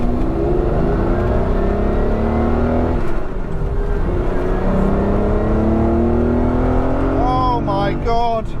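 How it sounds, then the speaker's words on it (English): A Ferrari 512BB with carburettors revs loud and close, its engine note rising and falling in long sweeps, ending in sharp upward blips. "Listen to the noise of proper, full-on, old-fashioned, incredible carburetors."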